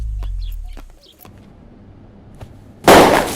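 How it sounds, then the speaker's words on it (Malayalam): Firecrackers go off at a celebration, one loud sharp burst erupting near the end after a quieter stretch of faint background sounds. "പടക്കം പൊട്ടി, ബാൻഡ് തുടങ്ങാം."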